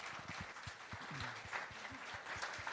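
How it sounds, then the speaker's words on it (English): Applause from a business-event audience welcoming a panel: dense, steady clapping from many hands, fairly loud and continuous, with no talking over it. "Please give them a warm welcome and round of applause."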